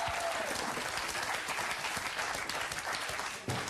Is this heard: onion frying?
no